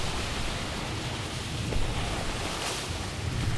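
Ocean surf from an Xbox Live Indie video game, a steady, dense wash of waves with a wind-like hiss that rolls on evenly throughout, with nobody speaking.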